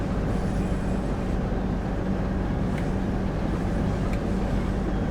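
A long, heavy train of eight or nine coaches rolls along in Train Sim World near Blackpool North, giving a steady low rumble with a faint hum and a couple of brief clanks, and no talk over it.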